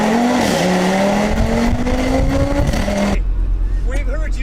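A rally car drives fast up mountain roads, its engine loud and near, rising and falling through gear changes before it cuts away. A voice speaks over the engine noise.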